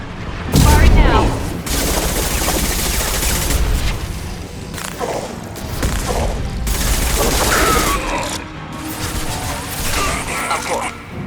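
Weapon gunfire crackles in the Mass Effect 2 video game, loud bursts of rapid shots and booms recurring across the scene amid combat noise, with voices talking at times.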